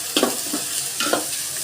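Sliced onion with salt frying in a pan as a spoon stirs it, giving a steady sizzle broken by short scraping strokes, close by and with no talk.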